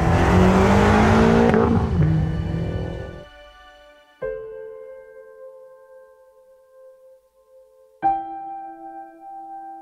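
A BMW X6M engine roars loudly under heavy throttle, then drops away, followed by two sharp, short revs blipped several seconds apart, each fading into quiet idle.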